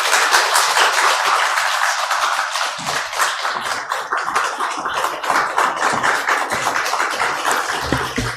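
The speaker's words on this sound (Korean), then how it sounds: "나오실 때 큰 박수 부탁드립니다" A church congregation gives sustained applause, dense clapping steady for the whole stretch, with no voices above it.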